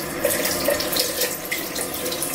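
Water runs steadily from a tap into a sink, a continuous close splashing hiss held at an even level for a couple of seconds, with no voices.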